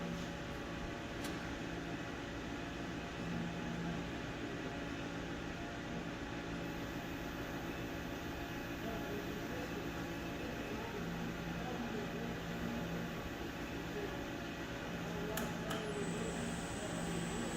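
A TRAK FHM7 CNC bed mill's spindle runs steadily at 1000 RPM, giving a constant mechanical hum and whir with broadband noise that holds unchanged throughout.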